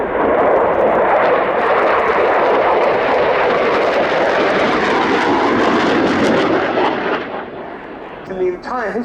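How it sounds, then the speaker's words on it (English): French Rafale fighter jet in special colour scheme making a topside pass at an air show, a loud sustained roaring rush of jet engine noise that fades near the end as a voice comments. "Now coming in for a topside pass, showing us this beautiful special colour scheme."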